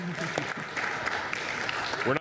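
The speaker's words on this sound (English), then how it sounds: "Give him a round of applause." A crowd at a city commission meeting claps in steady applause while voices talk and call out over it.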